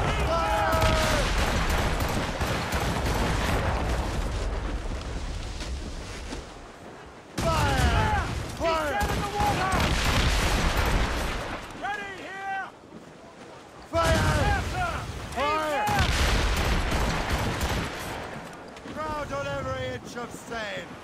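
Ship cannons firing in broadside volleys during a naval battle in Assassin's Creed Rogue, booming bursts over wind and sea noise, with a voice shouting orders between the salvos.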